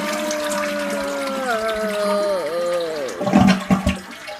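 A toilet flushes nearby, a rushing swirl of water that turns into a louder gurgling drain near the end, with no talking.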